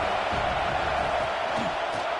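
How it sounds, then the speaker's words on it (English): A college football stadium crowd roars in a steady, dense wash of cheering, with no breaks or swells, loud and continuous throughout. "this crowd is turning it up a notch"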